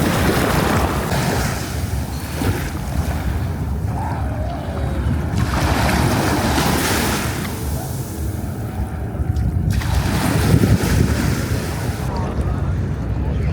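Sea waves at Patong beach, Phuket: steady surf wash and rumble fills the whole stretch, with wind buffeting the microphone and a few swells rising and falling.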